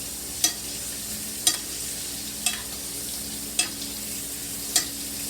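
Steak sizzles steadily in a hot pan while it is basted. About five sharp scrape-and-splash hits land at even intervals over the constant frying hiss, close up and with no talking.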